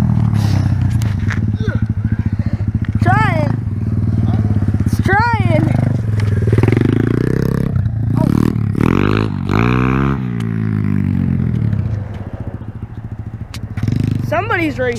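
A motorcycle engine drones steadily up close during a road trip race, with rising and falling revs and people talking excitedly over it.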